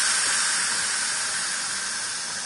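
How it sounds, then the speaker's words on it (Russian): Steam vents from the pressure valve of a multicooker steaming potatoes, a loud, steady hiss that starts at full force and tapers only slightly over a couple of seconds. "Сбрасываем пар."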